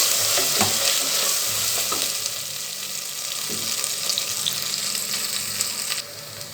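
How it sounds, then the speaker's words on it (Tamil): Onion and ginger-garlic paste sautéing in a pan for fish biryani, a steady close sizzle with occasional stirring clinks and scrapes, no talking. "கொஞ்சம் நேரம் வதங்கி வரட்டும்."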